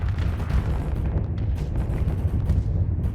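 Ship weapons firing nonstop in the space combat game Starsector, a dense, rumbling barrage of low booms and bursts that holds steady and loud for the whole stretch.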